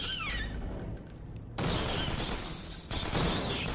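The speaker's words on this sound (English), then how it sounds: "What are you shooting?" Gunfire in Half-Life 2: Episode 1, bursts of rapid shots with crashing impacts after a quieter opening, fairly loud and dense, under game ambience.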